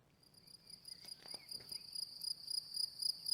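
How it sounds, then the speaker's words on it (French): A cricket chirps by rubbing its wings together, a rapid run of high, shrill pulses that grow steadily louder and closer over a quiet background. "il frotte ses ailes l'une contre l'autre"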